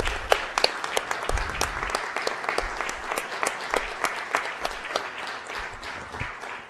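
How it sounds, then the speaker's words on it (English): Applause at a Rochester, New York city council meeting honoring a planning team: scattered, distinct claps from a modest crowd, steady throughout with no talking. "Let's give them all a round of applause."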